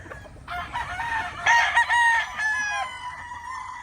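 Roosters at a gamefarm crow loudly and near, with overlapping cock-a-doodle-doo calls and clucking from banded fowl carrying on for several seconds, no one talking.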